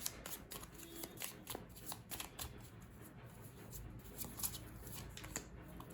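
Tarot cards are shuffled in a quiet room, giving soft, rapid riffling and flicking bursts that repeat through the passage alone.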